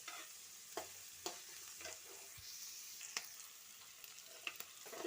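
Onions fry in a pan for an egg sukka dish, with a soft, quiet sizzle broken by occasional sharp spatula taps and stirring scrapes.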